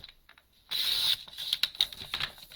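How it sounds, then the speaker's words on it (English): Paper being trimmed on a cutter for a mini cut and emboss machine, a soft rasping slide followed by several light clicks and ticks, close and alone. "So I'm going to trim it down just a little bit"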